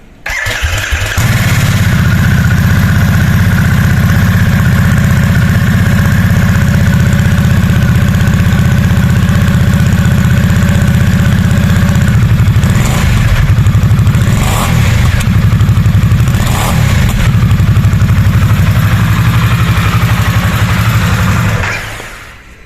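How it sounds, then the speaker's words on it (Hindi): A Harley-Davidson Nightster 975 V-twin starts and settles into a loud, close, steady idle with a deep, lumpy exhaust throb. Brief blips of revving come near the end before the engine cuts off. "एंड अभी लास्ट में इसके एग्जॉस्ट को भी सुन लेते हैं हम।"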